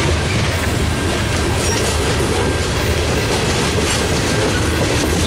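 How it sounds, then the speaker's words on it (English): Train cars of a Union Pacific freight roll past at a rail line in Thomasville, North Carolina, a loud, steady close-range rumble and rattle of wheels on track that fills the whole stretch without pause. "Train cars are moving down."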